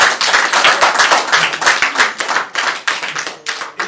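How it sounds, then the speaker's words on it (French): A church congregation claps along in praise, sharp close hand claps in a steady, fairly regular rhythm throughout, with no voices over it. "Applaudissez pour le Seigneur"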